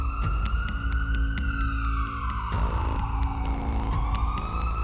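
An ambulance siren wails continuously as it passes a halted motorcade, its pitch sweeping up and down over steady traffic rumble, loud and close throughout with no voices.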